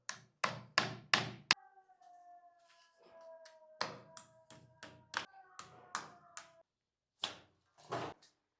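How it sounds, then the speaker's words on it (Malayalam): Sharp nail-hammering taps while a two-way shower diverter is fitted in a bathroom, several loud close strikes in quick bursts separated by pauses, with a faint ringing tone trailing after the first group. "ആണി അടിച്ച് ടൈറ്റ് ആയി കൊടുക്കണം"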